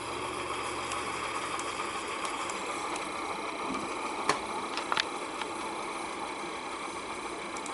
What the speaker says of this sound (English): Also has a large fan in the back of the engine.